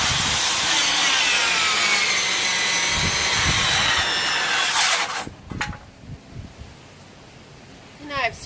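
A power saw cuts through wood next to a door being fitted with a solid low-E pane, a loud continuous rasping whine for about five seconds before it stops and short knocks and handling noises follow.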